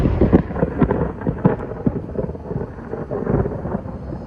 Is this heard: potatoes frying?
no